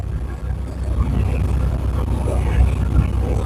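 A semi truck engine strains under load, a steady low rumble and drone that holds for the whole stretch with slight surges, close and fairly loud, with a faint voice mixed in.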